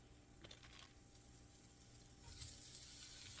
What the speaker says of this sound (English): I'm going to start putting the sausage in here.